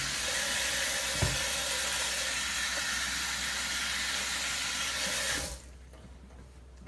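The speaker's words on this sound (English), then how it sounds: "I'm going to rinse my hands off again." Tap water runs steadily into a sink as hands are rinsed, making a loud, even hissing splash that stops abruptly near the end, with a brief knock partway through.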